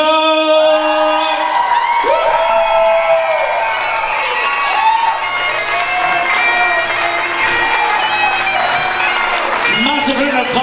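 Wedding guests cheer, whoop and clap for the bride and groom, a loud, dense crowd sound full of shouts and excited voices that keeps going without a break.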